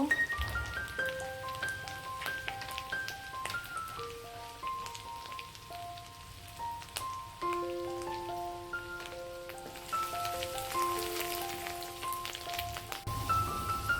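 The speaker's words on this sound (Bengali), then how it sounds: "তেল গরম হয়ে গেছে এবার চিকেনগুলো তেলের ভিতরে দিয়ে দিচ্ছি" Chicken pieces fry in hot oil for restaurant-style dry chilli chicken, giving a steady soft hiss of sizzling that sits under louder background music throughout.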